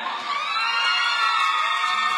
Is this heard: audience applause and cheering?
yes